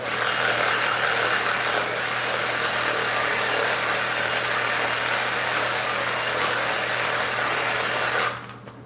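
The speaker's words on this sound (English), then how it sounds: "I got the Sawzall for some pain relief and helping." A Sawzall reciprocating saw runs steadily at close range with a loud, unbroken buzzing drone, then cuts off abruptly just before the end.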